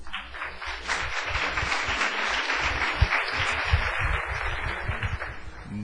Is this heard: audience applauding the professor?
yes